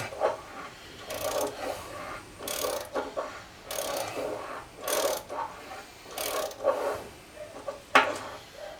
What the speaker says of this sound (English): I'm just extracting a long stud out the end here.